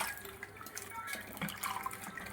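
Water runs from a tap over fish pieces being rinsed for a tamarind fish curry, a steady splashing and trickling flow close by with no talking over it.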